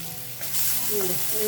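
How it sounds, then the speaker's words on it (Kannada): Garlic sizzles and fries in a pan for a greens stir-fry, a close, steady crackle with light stirring. "ಇದಕ್ಕೇನೆ ಒಂದ್ ಸ್ವಲ್ಪ ಆಶಾ ಬೆಳ್ಳುಳ್ಳಿನ ಹಾಕೊಳ್ಳೋಣ"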